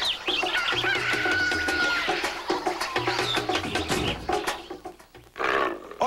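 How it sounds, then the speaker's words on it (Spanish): An Australian fighting rooster clucks and crows loudly and continuously, in a dense, harsh mix with roaring wild-animal cries and no talk. "especie verdaderamente estrambótica de Australia es el gallo de pelea australiano"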